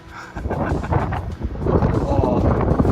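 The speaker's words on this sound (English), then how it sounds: "it's super windy" Loud, blustery wind buffets the microphone with rumbling gusts that build and surge throughout, strong and close.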